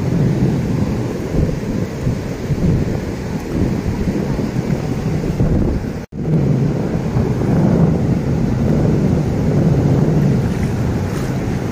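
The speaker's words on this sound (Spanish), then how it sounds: "Miren nada más cómo se ve de bonito el mar." Sea waves on a beach roll in a continuous, loud, broadband surf wash with wind buffeting, near and steady, briefly cut out for a moment midway.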